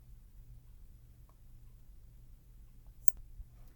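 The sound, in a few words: computer mouse click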